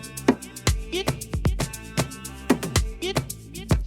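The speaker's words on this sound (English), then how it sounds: "I went into Serum, selected a particular Reese bass, witch bass." A Reese-style 'witch bass' synth patch from the Serum synthesizer plays in rhythmic, punchy stabs over a deep sustained low end. Short pitched notes glide up and down, with dense, buzzy harmonics and no talking.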